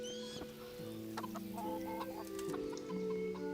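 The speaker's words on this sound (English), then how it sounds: "Chickens!" Chickens clucking in the video game Kingdom Come: Deliverance, several birds giving repeated short clucks and drawn-out calls over quiet ambience, fairly close and without speech.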